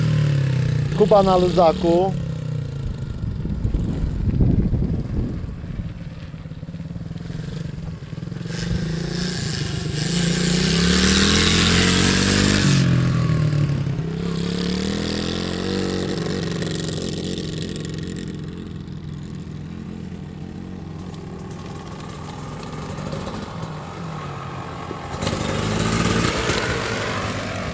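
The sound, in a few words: Beta 300 motorcycle engine being ridden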